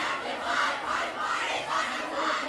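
A school cheer section at a football game between the Liberty Eagles and the Washington Blue Jays roars and chants in a loud, sustained crowd din that swells in rhythmic waves.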